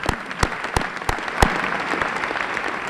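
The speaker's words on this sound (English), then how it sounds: "If you give her a round of applause" Scattered audience applause at a Festival of Trees event, a handful of sharp claps standing out at first before thinning into a light, steady patter from a crowd.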